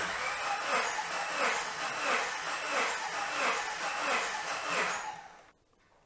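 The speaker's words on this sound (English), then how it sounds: "then we'll crank this motor over, holding the throttle wide open while doing it" A car engine cranks over with the throttle held wide open for a compression test, the starter whirring in a steady rhythmic churn of about half a dozen pulses before stopping abruptly.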